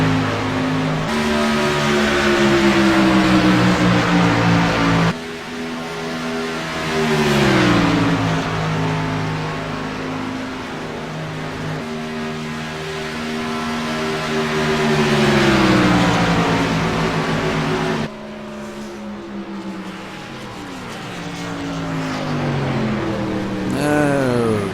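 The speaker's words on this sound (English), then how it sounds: "They come around to catch up to the pace car." Race car engines cycling through the gears as the field runs under caution behind the pace car, a loud, close drone with repeated upshifts and rising and falling revs, steady and continuous with no voices over it.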